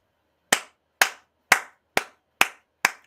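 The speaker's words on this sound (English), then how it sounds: "I know you do the golf claps" Slow, polite golf claps from an audience: six single, evenly spaced claps, each crisp and close, with silence between them and no talking.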